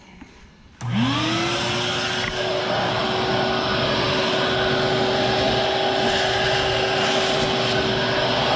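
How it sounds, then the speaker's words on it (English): A vacuum cleaner switches on with a rising whine, then settles into a steady, loud motor roar that continues without a break, used to clean up shavings while fitting a mirror to a Kubota BX tractor cab. "I'm gonna start our vacuum up."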